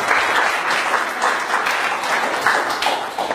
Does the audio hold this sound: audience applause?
yes